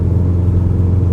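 A fully rebuilt Subaru engine idles with a steady, loud low rumble, running smoothly and evenly close by with no talk.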